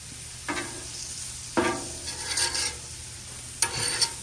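Shrimp and chorizo fry on a flat griddle, a steady low sizzle broken by three or four scraping spatula strokes as pieces are moved and lifted, heard up close with no talk.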